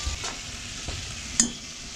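Garlic going into a hot pan for a goatfish (red mullet) curry, a soft steady sizzle under a few stirring scrapes and one sharp clink of a utensil against the pan, close and quiet, no voices.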